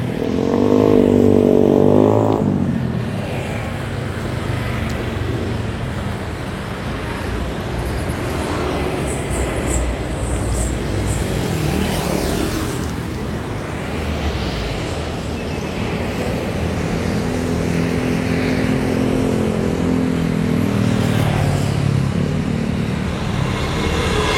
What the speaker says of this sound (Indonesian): Ini adalah kondisi lalu lintas yang ada di perbatasan antara Jawa Barat dengan Jawa Tengah ya.